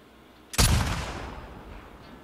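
A single gunshot fired at a sign in The Last of Us Part 2, a sharp loud crack followed by a long fading echoing tail, no voices.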